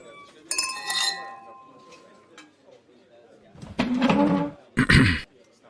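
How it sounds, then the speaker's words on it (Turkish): Glasses clink together in a toast: a bright ringing touch early on, then a couple of sharper clinks later, set among voices and room movement. "Kadehlerimizi Seyfettin'in şerefine kaldıralım"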